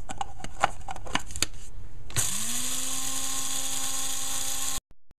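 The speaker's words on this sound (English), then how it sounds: "So the jeera, I already patched the jeera, and I'm gonna grind it." An electric spice grinder whirs up and runs steadily, grinding roasted cumin seeds, with a steady high mechanical whine that cuts off abruptly, after a few clicks and rattles of handling.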